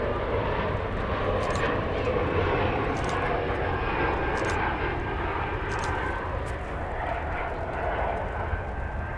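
Embraer 175 jet airliner passing near Dallas Fort Worth airport, a loud steady engine roar filling the whole stretch with a broad rushing tone, heard from outside.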